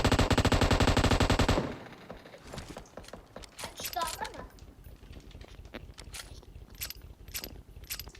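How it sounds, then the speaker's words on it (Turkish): Rapid automatic gunfire in PUBG Mobile on Erangel, a loud continuous burst for about a second and a half, then scattered closer and distant shots, clicks and rattles under someone talking. "Ben koşarak vururum bunları"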